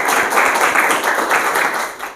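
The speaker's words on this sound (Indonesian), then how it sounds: "beri tepuk tangan" Classroom applause for a student who has just finished presenting, a steady wash of many hands clapping together for about two seconds with no voices over it.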